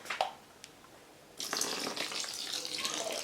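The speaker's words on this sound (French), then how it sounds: "Et je vais mettre l'eau." Water pours from a tap into a bathtub holding pink Glibbi bath jelly to dissolve it, starting as faint splashes and drips, then becoming a steady, soft gushing stream.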